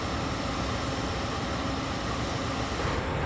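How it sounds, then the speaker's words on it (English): A passenger train stands at a station on a route toward California, giving off a steady, broad rumble and hiss of idling machinery at moderate distance, with no talk. "And here's my train in all of its glory."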